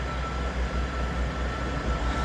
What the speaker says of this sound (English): Departing out now is the 1318 ScotRail service starting here at Glasgow Central going to East Kilbride